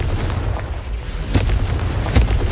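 Confringo blasting spell explosions in Hogwarts Legacy on PS5 land as a few heavy booms over a rumbling low background, the strongest hits near the middle and end.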